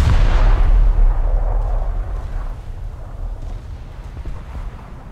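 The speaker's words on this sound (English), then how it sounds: "it takes about 9 seconds to get through all 13 guns" A battleship's big guns firing a salvo in War Thunder, a heavy booming blast at the start that rolls and rumbles away over several seconds, loud and low with no voices.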